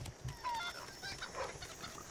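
Chickens cluck softly in the Assassin's Creed 3 game world, a few short fowl calls scattered over steady ambient background noise, fairly faint.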